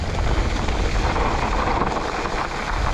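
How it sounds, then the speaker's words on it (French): Strong, steady wind buffets the microphone outdoors on a mountain alpine pasture. It makes a continuous broadband roar with gusty fluctuations and no speech. "avec le vent qu'on a dans les oreilles là"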